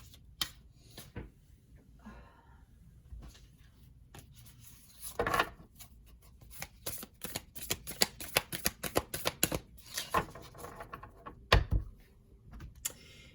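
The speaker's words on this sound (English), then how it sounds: "we got cards flying everywhere" Tarot cards shuffled by hand in loose, irregular bursts of riffling and slapping, close and fairly crisp, with quieter pauses between bursts and no talking.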